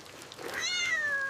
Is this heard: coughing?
no